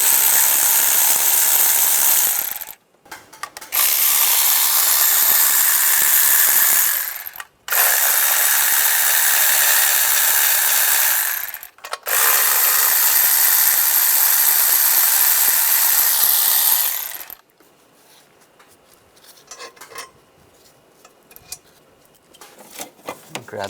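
Rapid ratchet clicking loosens a nut on the engine of a 1996-2002 Toyota 4Runner during valve cover gasket work, three long loud bursts split by short pauses, then a quieter stretch of faint handling sounds.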